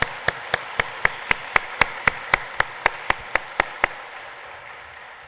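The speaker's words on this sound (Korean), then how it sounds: "우리 격려의 박수로 하나님 앞에 영광 돌리고 격려하겠습니다" A church congregation at a Wednesday worship service claps together in a steady beat, about fourteen sharp, evenly spaced claps that stop abruptly and leave a quiet room tone.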